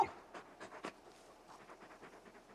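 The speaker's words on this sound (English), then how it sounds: "You're just a big puppy, aren't you? A very big puppy." Torgal, the giant wolf-dog companion in Final Fantasy XVI, panting in quick, soft breathy bursts, faint and close, with no speech.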